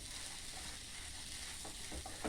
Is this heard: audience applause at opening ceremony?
no